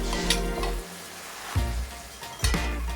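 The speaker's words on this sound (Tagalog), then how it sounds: "ipiprito natin ng hiwalay ang mga vegetables. Potato, carrots, paprika." Potatoes, carrots and paprika sizzling in vegetable oil in a pan over moderate heat, a steady crackling fry broken by a few sharp stirring scrapes, close up with no voices.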